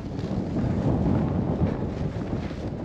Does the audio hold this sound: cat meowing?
no